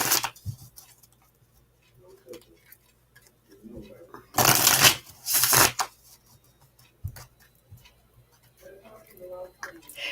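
Tarot cards are shuffled close by in two quick, papery riffling bursts midway through, set against a mostly quiet background.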